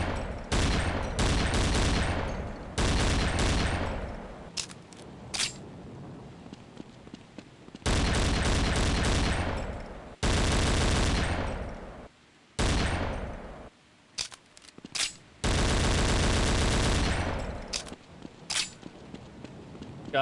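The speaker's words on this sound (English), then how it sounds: "I love the sounds of the guns in this game" Rapid, loud gunfire from weapons in The Specialists, a Half-Life mod video game, comes in long dense bursts broken by short gaps and scattered single shots, with no talking.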